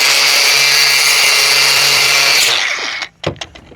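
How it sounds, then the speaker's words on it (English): An angle grinder fitted with a large blade runs loud and steady up close, then spins down and stops, followed by a few sharp clanks of handling. "We need the big blade on the grinder"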